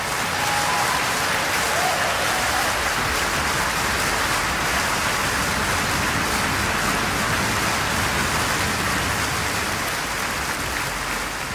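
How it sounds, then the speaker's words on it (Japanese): Generous applause for two performers fills the hall, a steady, even wash of many hands clapping at once, sustained without a break. "二人に惜しみない拍手が送られました。"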